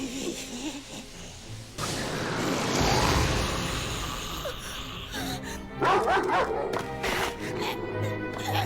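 A dog barks a few times amid a busy, noisy scene of crashing and commotion, with voices and shouting mixed in throughout.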